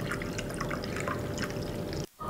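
A 7-Up drink mixture being poured, a close, continuous trickling and splashing of liquid that cuts off abruptly near the end.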